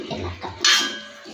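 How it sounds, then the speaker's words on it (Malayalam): A brief metallic scrape and clatter as fish for a sardine pickle is gently stirred in a cooking pot, with soft kitchen handling noises around it. "ഈ മീനെ തട്ടിയിട്ട് പയ്യെ ഒന്ന് ഇളക്കാം."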